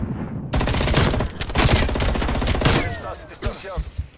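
Rapid automatic FAAC rifle fire bursts loudly in a video game, a dense, sustained volley of close shots followed by a few scattered pops and ringing echoes as it tapers off.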